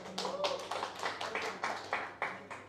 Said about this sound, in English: A round of applause to Lionel.